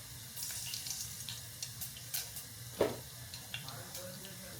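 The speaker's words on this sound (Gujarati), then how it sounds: "એમાં તેલ ગરમ થઈ ગયું છે એટલે રાઈ નાખી દઈએ આપણે. રાઈ નાખી દીધું, થોડુંક જીરું નાખી દીધું." Mustard seeds and cumin dropped into hot oil in a home kitchen pan, giving a steady faint sizzle with scattered small pops and one sharper crackle, heard alone at close range.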